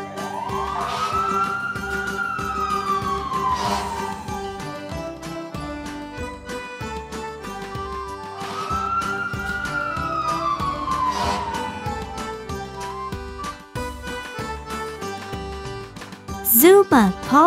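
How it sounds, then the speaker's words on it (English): Toy fire engine siren from a children's Paw Patrol vehicle, two loud rising-and-falling electronic wails over jingly music, with a brief sharp chirp near the end. "Fire engine."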